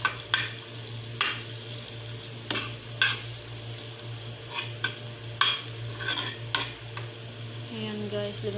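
Chicken frying in butter in a pan with a continuous sizzle, punctuated by repeated scraping and clinking strokes of a utensil stirring, close and fairly loud.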